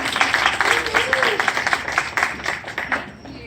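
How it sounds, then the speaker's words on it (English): An audience at a reading applauds to welcome a speaker, with a burst of close, lively clapping that stays steady before thinning out toward the end, and a voice heard briefly over it. "Please join me in a round of applause"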